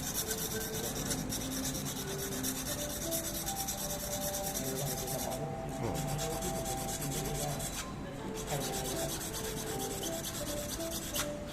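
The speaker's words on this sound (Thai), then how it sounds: "เราได้ปุ๊บเราก็อัด ตะไบ ตะไบอย่างเงี้ยเรานั่ง แต่งได้เลยฮะ" A hand file rasps back and forth over a small sawn mother-of-pearl shell piece, trimming sharp edges and saw marks: a continuous, even scraping close up, quiet but unbroken, with a few brief pauses.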